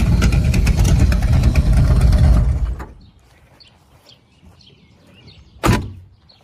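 Chevelle muscle car with open headers starting up: a loud, rough rumble lasting a few seconds that drops away abruptly into quiet, then a single sharp bang or burp later on.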